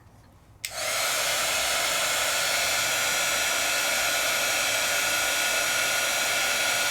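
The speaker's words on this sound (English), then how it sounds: "I'm just gonna heat set." Handheld crafting heat tool switched on to melt and set embossing powder, its steady loud blowing roar starting abruptly after a brief quiet moment and holding constant to the end.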